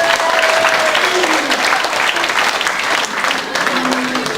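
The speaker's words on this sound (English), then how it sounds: "round of applause for Kev, please." Audience clapping and cheering at a motor racing club's Christmas party awards night, loud and sustained, with crowd voices and a couple of whistles over the applause.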